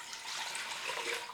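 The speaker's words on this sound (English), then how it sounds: "pour the water in your pot" Water poured into a pot while mixing sugar syrup to feed bees, a steady, close splashing rush lasting just over a second.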